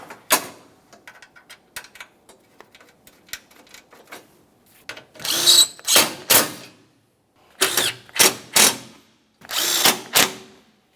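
A power tool snugs up 10mm-headed bolts on a radiator of a 2017-2024 GMC Acadia, with several short loud bursts of whirring separated by pauses, preceded by quieter clicks and handling noises.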